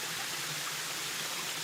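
A jungle waterfall rushes with a steady, even roar at a moderate distance near a bushcraft basecamp, continuous throughout with no other sounds.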